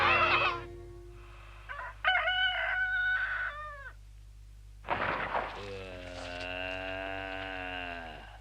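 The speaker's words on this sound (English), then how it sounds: "Remind me to kiss that rooster." A cartoon rooster crows at sunrise on a dairy farm, several drawn-out harmonic calls in a row, clear and fairly close, with short pauses between them over a low steady hum.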